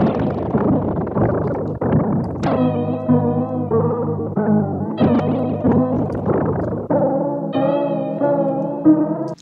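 A lo-fi hip hop sound in Ableton Live processed with an echo effect, wobble and morphing turned to maximum, producing distorted, wavering tones that shift in pitch over several seconds, loud and without speech.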